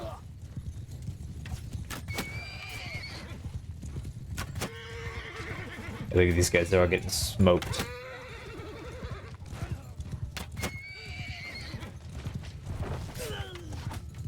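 Horse archers' mounts in a video game battle whinny and neigh repeatedly amid creaking and clattering, with a louder burst of clashing noise in the middle, while someone commentates throughout.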